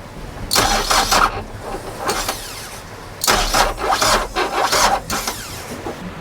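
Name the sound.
boat engine cranking, failing to start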